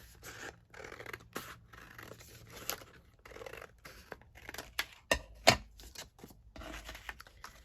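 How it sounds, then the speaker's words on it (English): Scissors cutting through a book page, a quiet series of irregular snips and paper scrapes with short pauses between cuts, close by. "let's cut that down like that, and then just cut it down here along this side"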